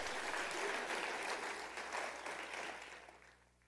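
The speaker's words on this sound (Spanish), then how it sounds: "Dale un aplauso fuerte al Señor." Church congregation applauding loudly during a worship service, a dense wash of clapping that holds steady and then fades out over the last second.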